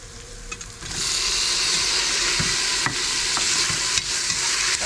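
Tomato and green chillies sautéing in a pan for Thalassery mutton biryani, a steady loud sizzle after a brief quiet start, with occasional scrapes and stirs of the spoon throughout.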